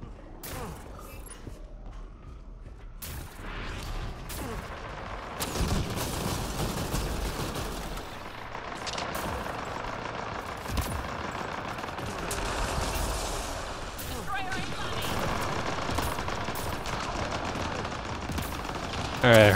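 Gunfire from a short-barrelled shotgun and other weapons in the video game Apex Legends, with repeated sharp blasts and bursts over a busy battle soundscape, and a voice talking throughout.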